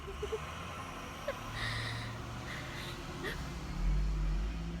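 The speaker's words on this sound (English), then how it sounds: "We have a school bus going by." A school bus rumbles past outside after school, a low steady engine drone that swells louder toward the end, with faint brief squeaks above it.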